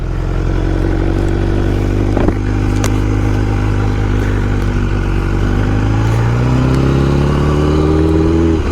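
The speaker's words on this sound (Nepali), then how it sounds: "एकछिन घुमाउँछु है म वार्मअप गर्नु पऱ्यो यो बाइकमा एकछिन" A motorcycle idles and revs close by during a warm-up ride in Chuncheon, South Korea, a steady rumbling engine drone whose pitch climbs as the throttle opens near the end, with a few light clatters.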